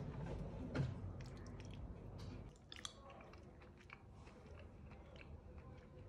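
Close, quiet chewing and biting of cavatelli with zucchini flowers, pancetta and saffron, soft wet mouth sounds with a few sharper bites and no talking.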